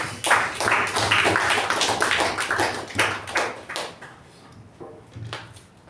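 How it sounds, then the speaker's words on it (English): A small group at a Toastmasters meeting claps, sharp crisp hand claps in a quick uneven patter that fades to a few scattered claps near the end. "a wonderful round of applause to Toastmaster Sharanye"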